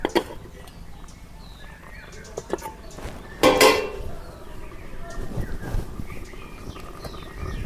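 A cooking pot holding a fish curry with onion and green chilli is lifted off a stove, with one clear metallic clank and scrape in the middle and softer clatter and rustling around it.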